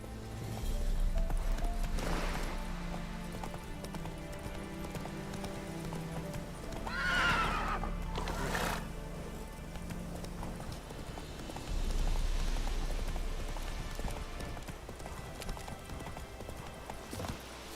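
Horse in The Witcher 3: Wild Hunt, hooves pounding in a steady gallop with two loud whinnies midway, plus game ambience.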